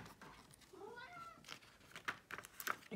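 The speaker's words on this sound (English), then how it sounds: "Excuse my cat if you hear him in the background." A cat meows softly a few times in a quiet room, with faint rustling and small clicks nearby.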